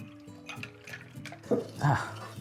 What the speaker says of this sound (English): Let's pour some for me. I'll pour some for you too.